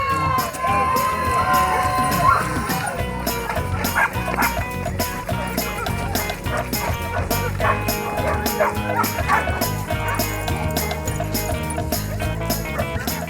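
Many dogs barking and yipping at the start of a dog 5K run, with repeated overlapping barks, whimpers and running steps amid a crowd, fairly close, while people talk.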